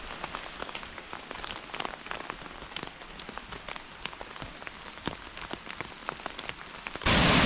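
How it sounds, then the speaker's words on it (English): Heavy rain pours steadily onto a hiking trail in Blue Mountains National Park, Australia, a dense patter of close drops with sharp individual splashes throughout, swelling into a louder, harder roar at the very end. "It's raining, it's pouring."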